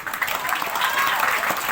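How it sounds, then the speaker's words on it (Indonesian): Audience clapping at an event at Pura Dalem Wanasara, a dense steady patter of many hands with faint voices mixed in. "tepuk tangan"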